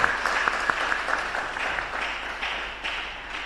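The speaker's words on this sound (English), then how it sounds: "Let's give her a round of applause." Physiology conference audience clapping after a speaker, a crowd of hands applauding at a steady, fairly dense rate, moderately loud and tapering slightly over a few seconds.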